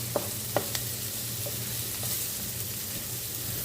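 Green, yellow and red peppers with onions fry in a pan, giving a soft steady sizzle with a few sharp clinks of stirring near the start, fairly quiet and with no talking.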